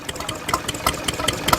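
A vintage Lister stationary engine runs at a classic car show, a steady rhythmic chugging with regular knocking beats at moderate distance.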